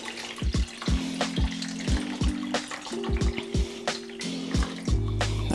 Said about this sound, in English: into the bowl, I'm going to put some warm water